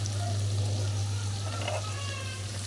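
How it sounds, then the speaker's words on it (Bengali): Dried fish (shutki) and onion fry in a pan on a gas stove, giving a steady, even sizzle over a constant low hum throughout. "তো এখন ভালো করে শুটকিটা লাল লাল করে ভাজে নিই"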